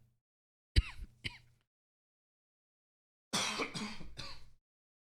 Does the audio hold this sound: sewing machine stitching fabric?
no